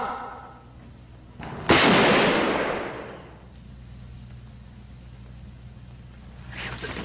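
Gunfire in a 1946 film scene: one loud, close shot cracks out and its echo rolls away over a few seconds. Low ambient rumble sits underneath, and a faint rustle comes near the end.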